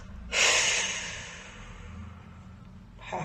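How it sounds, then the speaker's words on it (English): A deep breath drawn in and slowly released during a guided breathing exercise at a full moon ritual, one long airy breath close to the mic fading over a few seconds, with another intake starting at the end. "Nice deep breath in and then breathing out into the ground."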